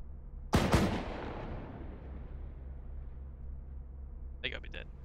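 Armor-piercing rounds fired in a video game: one loud, sharp blast near the start that decays into a long rumbling tail, followed by a short burst of voice later.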